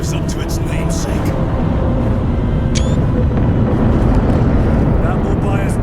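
Engines approach in Warhammer 40,000: Space Marine 2 as a loud, continuous, roaring rumble that fills the scene beneath voices and scattered battle noises.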